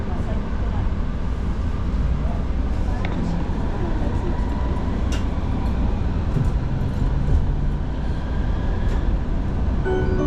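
An Utsunomiya Light Rail tram runs along its line, a continuous low rumble and hum with faint squeals and clicks, heard from inside the car.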